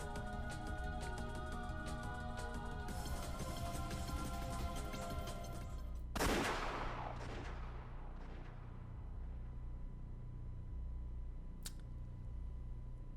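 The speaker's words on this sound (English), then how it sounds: "Suddenly, a loud explosion rang out." A sudden loud explosion in the visual novel Umineko No Naku Koro Ni bursts over steady background music, its crack decaying into a rumbling tail, followed later by a short sharp hit.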